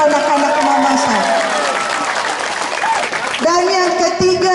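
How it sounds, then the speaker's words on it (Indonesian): A church congregation at a closing worship service applauds for children, a broad wash of clapping under a sustained sung or played melodic tone, loud and continuous. "Boleh tepuk tangan untuk anak-anak mama saya."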